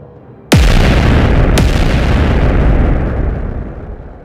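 Two sharp blasts, the first loud and close, followed by a long rumbling roar of debris and smoke that slowly fades, with no voices.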